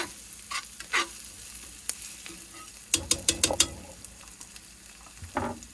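Venison wraps of doe meat frying and browning in a pan, a soft continuous sizzle broken by sharp spoon or spatula knocks and a quick cluster of scraping taps midway.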